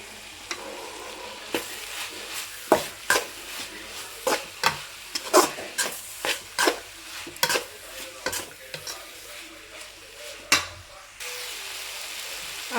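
Dill leaves being stirred and fried in a pan for chitranna, a soft continuous sizzle broken by about a dozen sharp spatula scrapes and knocks against the pan, close and clear, with no talking.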